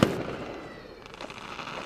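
A loud pop opens the clip, followed by a dull wash of distant crackling and rumbling bursts, like fireworks going off somewhere outside.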